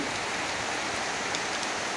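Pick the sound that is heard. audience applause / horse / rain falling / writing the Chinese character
rain falling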